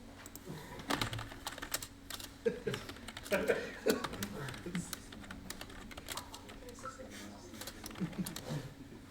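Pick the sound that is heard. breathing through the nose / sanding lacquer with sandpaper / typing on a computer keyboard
typing on a computer keyboard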